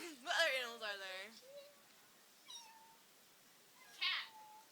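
A young boy imitates a cat, giving one long, wavering meow, then two shorter, softer meow-like cries after pauses, each close and fairly clear.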